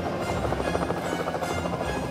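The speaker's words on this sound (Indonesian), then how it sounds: "Wow, aku suka menjadi helikopter." Cartoon helicopter from a Thomas & Friends animation flying, a steady whirring rotor drone with a fluttering beat held at even loudness throughout.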